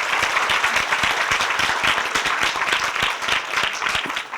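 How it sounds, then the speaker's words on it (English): A big round of applause for graduates at a 2017 degree ceremony, many hands clapping in a dense, fairly loud and steady burst that carries through the whole stretch with only slight easing at the end. "Please give them a big round of applause again."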